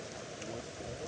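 Steady rain falls by a jetty on the Muar River during a prawn fishing trip, a dense, even hiss that runs through the whole moment with no talk over it.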